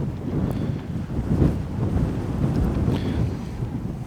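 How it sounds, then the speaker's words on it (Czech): Rough Adriatic Sea surf on a sandy beach on a windy day, waves surging and crashing in a broad roar mixed with heavy wind buffeting the microphone. "Moře je, bych řekl, dneska trošičku rozbouřené, vlny jsou slušné."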